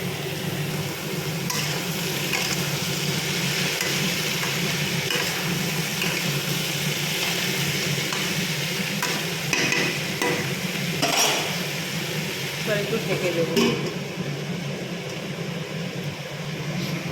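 Bitter gourd and pumpkin are stirred and fried in a pan in a home kitchen, producing a soft continuous sizzle with intermittent scraping clicks of the utensil, fairly close and steady throughout.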